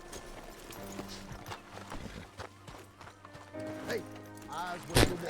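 Horse hooves in the video game Red Dead Redemption II, clip-clopping steadily along with a snort or whinny near the end, while someone talks over the game's sounds.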